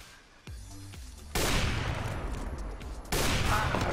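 Gunfire in the video game CS:GO: a burst of loud, dense shots fills most of the clip, with a second fusillade breaking out near the end.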